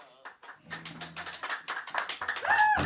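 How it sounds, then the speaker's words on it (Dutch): Applause and cheering from a small group in an otherwise empty radio studio, steady clapping building up with excited voices and chatter mixed in, growing louder toward the end. "Wat een applaus hier in zo'n lege studio"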